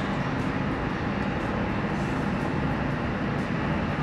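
Steady rumble and rattle inside a moving passenger train with wheelchair space, on an interrail route from Tallinn through Valga toward Riga; continuous broadband noise with no talk.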